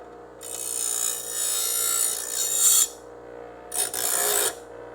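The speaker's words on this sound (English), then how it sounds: "I'm gonna deburr the plate again because I don't need to be grabbing this when I'm mocking it up" A file scrapes back and forth across a metal plate on a Crew Cab Charger restoration, deburring the edge in two close, rasping bursts separated by a brief pause.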